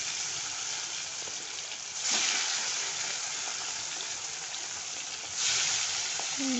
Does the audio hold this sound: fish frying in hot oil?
yes